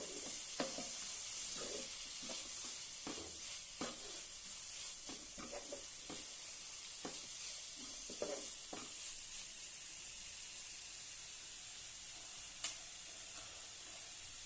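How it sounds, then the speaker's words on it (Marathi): Grated sweet potato sautés in a pan with a soft, steady sizzle, and a spoon stirring it makes repeated light scrapes, all fairly quiet and close with no talking. "आणि छानपैकी परतून घेऊया"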